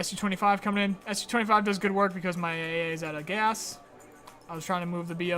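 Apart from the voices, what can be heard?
No everyday noises stand out.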